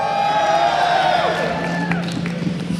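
A large crowd cheers and whoops at the Intel Extreme Masters StarCraft 2 grand final in New York City, a loud sustained roar with clapping mixed in, close and steady.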